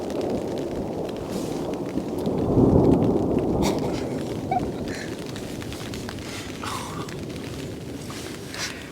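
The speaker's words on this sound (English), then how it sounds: "That was some thunder" Thunder at night on an active volcano. One loud, deep, rumbling roll swells over a steady background rush, peaks after a couple of seconds, then fades to a low continuous rumble.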